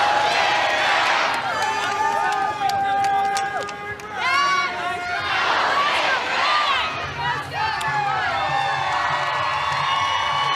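Volleyball crowd in an arena after a college women's match, loud sustained cheering, whoops and shouting from many voices, with waves of noise and a commentator talking.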